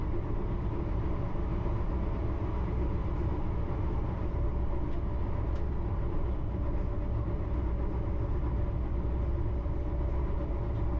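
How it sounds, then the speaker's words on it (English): A steady, rumbling roar of a London Underground Metropolitan line train running along the tracks, continuous and fairly loud throughout, with no voices. "There's a Metropolitan line train now."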